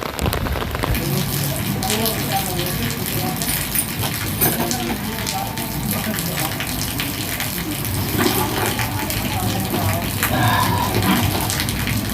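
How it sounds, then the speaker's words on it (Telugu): Heavy rain pours down in a dense, constant hiss and patter, steady and loud throughout with no pauses. "బాగా వర్షం పడుతుంది"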